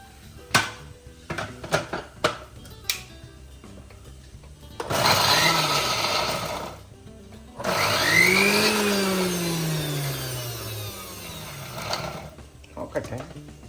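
A kitchen mixer grinder whirs loudly in two short bursts, pulsing while grinding ginger and spices without water. Speech and clattering handling noises come before and after the bursts.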